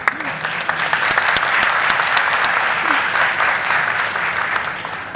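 Audience clapping at an NSMQ 2024 semi-final quiz contest between Mfantsipim, Osei Tutu and Presbyterian Boys' schools: dense, sustained applause filling the hall, loud and steady, with a few faint voices underneath.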